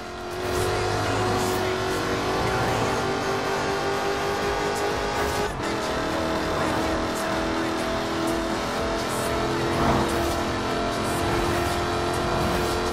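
A Jaguar F-Type Project 7 in Forza Horizon 4 drives hard, its loud engine revving continuously with shifting pitch, accompanied by occasional tire noise.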